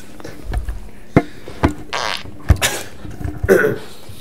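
Fart sound effects played from a phone app, several short bursts and blasts spread irregularly across a few seconds, loud and close, with little else around them.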